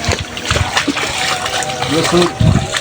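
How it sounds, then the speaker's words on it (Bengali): Feet wade through water in a flooded vegetable garden during rain, with soft splashes and sloshes under someone talking nearby. "এই যে পানির মধ্যে হাঁটছি পানির মধ্যে হাঁটা দেখেন"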